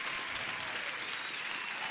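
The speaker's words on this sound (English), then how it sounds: "Bernard, you deserve an applause, my man." Dense, continuous applause from a crowd fills the moment during a live Nasdaq futures day-trading session, steady and fairly loud without any talk over it.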